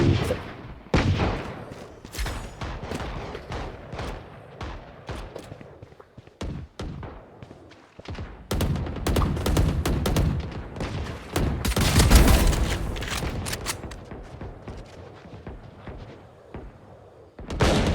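Shotgun gunfire in Valorant: repeated sharp, punchy blasts in irregular bursts, loud and close, with denser volleys toward the middle.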